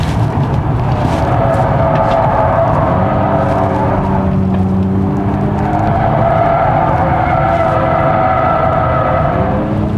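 A 2026 Genesis Electrified GV70 electric SUV is driven hard into a corner too fast, its rear sliding slightly. A loud, steady drive sound with rising and falling synthetic tones carries throughout, close up and without talk.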